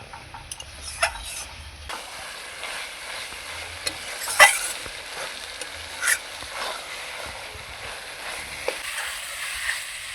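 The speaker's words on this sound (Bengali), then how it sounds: "কচুগুলোকে খুন্তি দিয়ে একটু থেতলে দেবো" Cooked taro being mashed with a spatula in a pan for a vegetarian curry with paneer, chickpeas and jackfruit seeds, heard as soft scraping and stirring with a few sharper knocks against the pan over a low background hiss.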